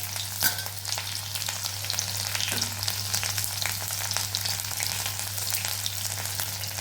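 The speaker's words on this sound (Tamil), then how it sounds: "இப்போ இதில் பொடியாக கட் பண்ண பூண்டு, பொடியாக கட் பண்ண பச்சை மிளகா," Finely chopped garlic and green chilli fry in hot oil in a pan, a loud, steady crackling sizzle with occasional stirring scrapes and a low hum underneath.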